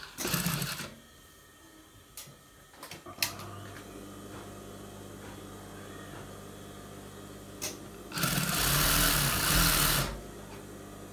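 A sewing machine stitches bra fabric in two distinct bursts, a short run at the start and a longer, louder run near the end, with quiet handling noises between them.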